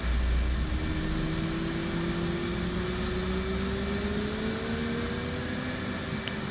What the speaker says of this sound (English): left engine spooling.